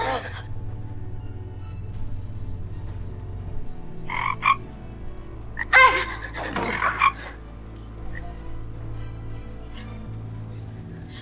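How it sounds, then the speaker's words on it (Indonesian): A frog croaking indoors in a drama scene, a few short loud croaks in separate bursts over a low background hum. "Ini kodok."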